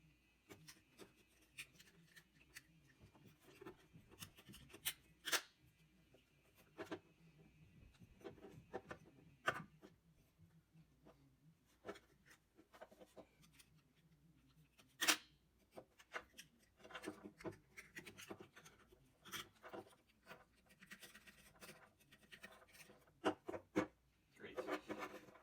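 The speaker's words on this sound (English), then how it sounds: "First, just scrape off as much as I can." Grime is scraped off a moped's cover with quiet, irregular rasping and scratching strokes, with occasional sharper scrapes and knocks against a low, hushed background.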